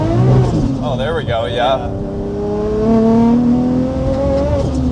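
Nissan S15 Silvia with a big-turbo RB25 engine revs close by, quick throttle blips then a sustained rising rev held at part throttle, with people talking briefly over it.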